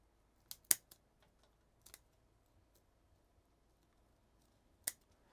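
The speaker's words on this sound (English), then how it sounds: "We're going to cut that right off." Pruning shears snip through a juniper bonsai branch, giving a few sharp, close clicks and cuts spaced over several seconds in an otherwise quiet room.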